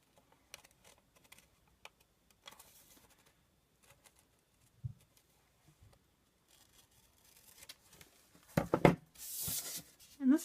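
Scissors snip through paper while shaping a paper flower poppy, a few soft, quiet cuts with pauses between them, ending in a brief louder burst of crisp rustling and snipping near the end.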